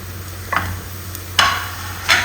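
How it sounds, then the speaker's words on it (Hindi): Ginger garlic paste stirred and frying in a pan for chicken liver, with three brief bursts of sizzling and stirring over a low steady hum. "यह अदरक लहसुन का पेस्ट जा रहा है"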